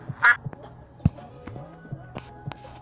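A short, bright duck quack sounds at the start, followed by scattered taps and knocks in a quiet room.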